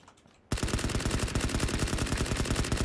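Rapid automatic gunfire in the video game Battlegrounds, a dense, steady, loud burst of shots starting abruptly and continuing without pause for a few seconds.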